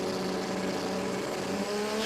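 Turbocharged 2J panel van at a drag race, engine roaring loudly and continuously at high revs through the launch.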